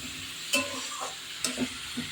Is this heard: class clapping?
no